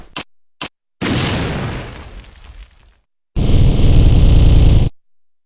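Cluster bomb blasts from a Metal Slug-style shooter made in Game Maker: a couple of short pops, then two loud, long, rumbling bursts of explosion noise separated by a brief silence.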